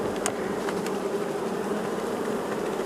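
A dense, steady buzz of many honeybees close by at an open hive, continuous and fairly loud, with no talking.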